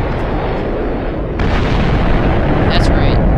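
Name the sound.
nuclear missile explosion from Voltz railgun mod, video game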